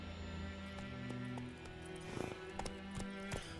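Roach the horse in The Witcher 3 moving along at pace, a quiet rhythmic clip-clop of hooves under a soft game music bed.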